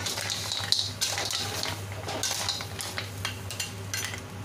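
Green shell mussels cooked Chinese style are stirred in a pan, producing repeated close scrapes and clinks of a utensil against the pan over a soft steady sizzle and low background hum.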